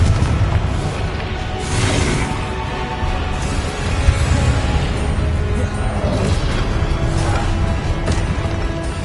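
A Confringo blasting spell detonating in Hogwarts Legacy, a loud continuous rumble of booms and crashing debris with repeated sharp hits over several seconds, no talk.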